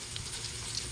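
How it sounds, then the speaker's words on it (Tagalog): Small shrimp sautéing with garlic in a pan, a steady dense sizzle with faint crackles, close and continuous, no voices. "Pagkagisa po niyan ay lalagyan na po natin yung ating hipon dyan"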